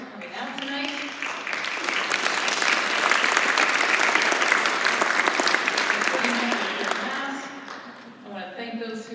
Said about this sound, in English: So I want you to applaud yourselves for coming out tonight.